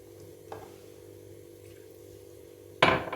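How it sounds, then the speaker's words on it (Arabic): A quiet kitchen hum, then near the end a sudden splash of half a cup of water poured into a pot over vegetables for chicken casserole, with a faint sizzle. "نص كوبايه ميه هبتدي احطها تنزل عند الخضار"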